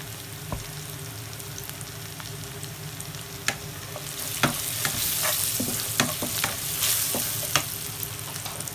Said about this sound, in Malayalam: ഇതിൻ്റെ പച്ചമണം മാറുന്നവരെ നമുക്ക് ഒന്ന് വഴറ്റി